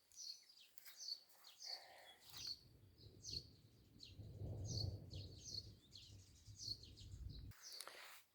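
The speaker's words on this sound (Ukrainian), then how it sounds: "Ось такі гарні пташки співають." Birds sing in short repeated chirping phrases at a steady pace after rain at a countryside dacha, with a low rumbling noise swelling underneath in the middle before fading.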